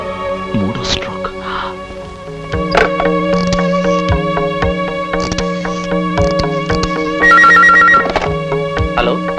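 A telephone rings while a call is placed to a hospital in Rajahmundry in an older Telugu feature film. Repeated ringing sits over steady tonal background sound for about nine seconds, fairly loud and continuous, with no voices.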